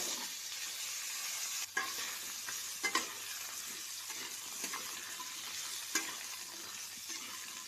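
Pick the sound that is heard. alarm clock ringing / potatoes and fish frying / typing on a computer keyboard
potatoes and fish frying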